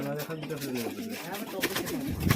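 Snake-eyed high-flying pigeons in Murshidabad coo softly and steadily under a man's close, continuous talking.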